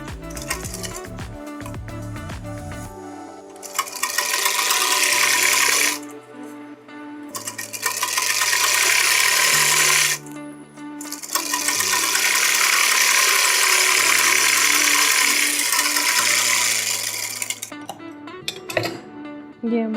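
A sewing machine runs a finishing press stitch on fabric in bursts. It starts with a few short clicks, then gives three long, loud whirring runs separated by brief pauses, and ends with a couple of quick stops.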